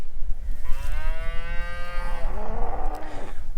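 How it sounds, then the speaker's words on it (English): A cow moos once, loud and close, in a long drawn-out low call that bends in pitch toward the end over faint outdoor background. "There's a cow here."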